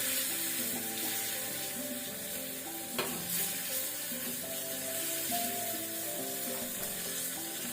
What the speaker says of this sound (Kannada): ಎಣ್ಣೆ ಬಿಸಿಯ ನಂತರ ಜೀರಿಗೆ ಹಾಕೋಣ, ಜೀರಾ ಸೀಡ್ಸ್